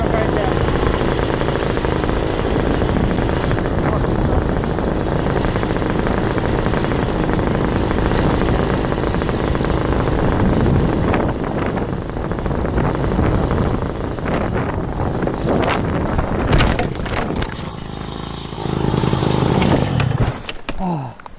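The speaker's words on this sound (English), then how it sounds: "Why on earth is my engine still running at this point?" A paramotor engine drones loudly and steadily through a crash, its buzz mixed with heavy wind rush on the microphone, then breaks up into bumps and rustling near the end.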